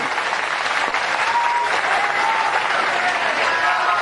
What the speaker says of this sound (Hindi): मंत्रीमंडल के ताली गड़गड़ाहट से जोरदार स्वागत कर दो